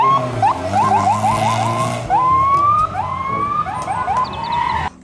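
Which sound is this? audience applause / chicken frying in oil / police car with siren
police car with siren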